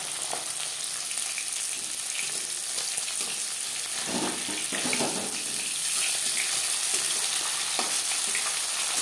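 Chela sea fish fries in hot oil in a pan, a continuous loud sizzle and crackle with scraping and stirring bursts around the middle, no voices present.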